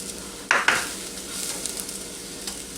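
Rice and onions fry in a pan, giving a steady soft sizzle, with two sharp stirring scrapes near the start, heard close and alone.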